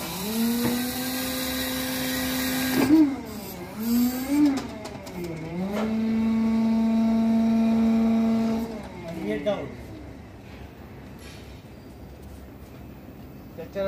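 An electric forklift runs with a tonal motor whine that rises, dips and swoops in pitch across several bursts, holds steady for a few seconds, then winds down into near silence.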